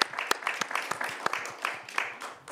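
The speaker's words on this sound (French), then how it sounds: "Je pense qu'on peut vous applaudir." An audience at a conference on purchasing power, inequality and sustainable consumption applauds with a brief, moderately loud burst of scattered clapping that holds steady for a couple of seconds.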